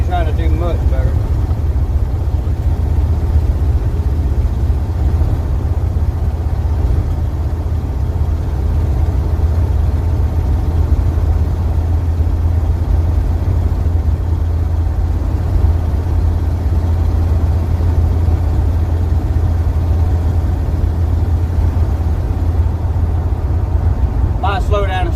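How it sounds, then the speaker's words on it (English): A 1979 Chevy C20 truck, parked for years, runs with a steady low engine drone throughout, close and continuous, with no talk over it. "Got a little pop through the exhaust when it's decelerating or letting off the gas."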